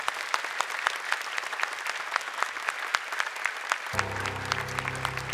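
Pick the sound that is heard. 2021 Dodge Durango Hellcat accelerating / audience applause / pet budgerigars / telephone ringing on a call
audience applause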